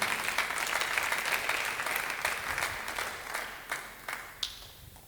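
Applause from a church congregation during a Wednesday worship service, sustained dense clapping that thins out toward the end, with a few sharper individual claps standing out.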